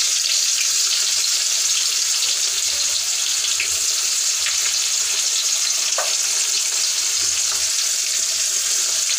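Chopped onions frying in hot oil for a chicken curry, a steady broadband sizzle throughout with a few faint clinks, close and continuous, no talking.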